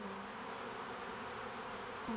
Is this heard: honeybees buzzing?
yes